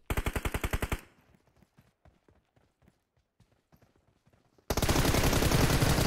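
Rifle gunfire in PUBG Mobile, a rapid burst of about ten loud close shots in quick rhythm, then a quiet stretch of faint footsteps and clicks before a sudden loud, dense roar of noise.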